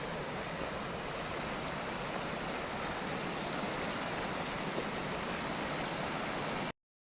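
A river in Wells Gray Provincial Park rushes past, giving a dense, steady roar of churning water close by with some wind noise. It runs unbroken with no voices, then stops abruptly.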